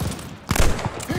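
Machine gun fire from the Call of Duty Vanguard video game: a loud, dense run of automatic shots that swells midway through, with no speech over it.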